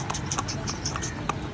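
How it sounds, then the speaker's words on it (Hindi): Horse hooves clip-clop while the horse is being ridden, a quick run of close knocks under light background noise. "चल मेरे घोड़े टक टक टक"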